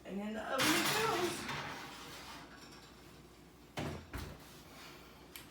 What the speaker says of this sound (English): And then we're gonna open our oven and we're gonna put this in.